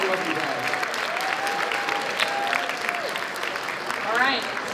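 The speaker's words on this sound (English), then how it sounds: "Give yourselves all the applause again for just being here." Applause from a furry convention audience at Midwest Furfest 2021's Floorwars fills the room as steady clapping, with a whistle-like tone and scattered cheers rising over it.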